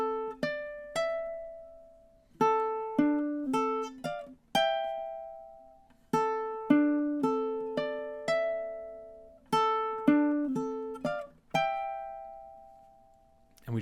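A solo ukulele picks the outro of the MASH theme, clear plucked melody notes in short phrases, each left ringing and decaying, close and alone.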